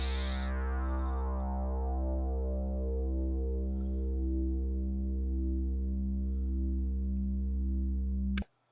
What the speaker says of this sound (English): basic kind of sweeping synth sound that sounds like this